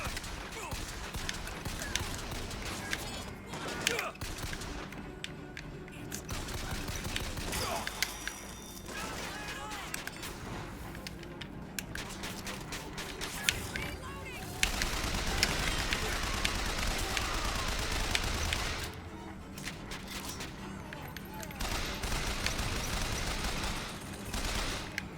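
A turret in a video game fires sustained bursts of rapid gunfire, steady and dense through the whole stretch with brief gaps, mixed with other game noise and some talk.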